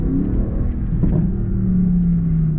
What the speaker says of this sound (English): You can sit down there and just let the car run.